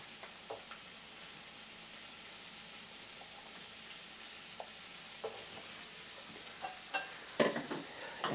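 Artichokes sauté in a pan with a faint, steady sizzle and crackle, joined by a few soft stirring clicks and scrapes, with no talking.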